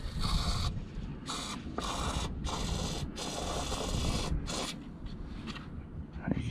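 Short hissing bursts of foam cleaner spray from an aerosol can, several in a row with brief pauses between them, close up, cleaning sticky variable vane turbo vanes on a VW group engine.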